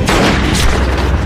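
A loud, close gunshot from the film The Flu booms and rumbles on for about a second.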